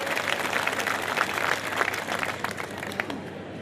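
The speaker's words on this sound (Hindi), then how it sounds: "एक बार जोरदार तालियां अवाना साहब के लिए" An event audience claps loudly and continuously, a dense wash of many hands that fades slightly toward the end.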